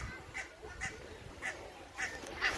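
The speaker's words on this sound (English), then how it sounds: "There's loads of ducks there" Ducks at Blackpool Zoo call in a series of about five short, honking quacks at a moderate distance, spaced roughly half a second apart over a steady outdoor background.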